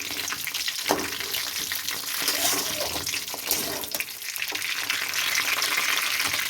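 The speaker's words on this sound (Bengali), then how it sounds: "ফুলকপিগুলো ভাজতে দিয়ে দিলাম।" Cauliflower florets fry in a pan, a steady hissing sizzle with sputtering bursts and a few stirring clatters, close and continuous, with no talking.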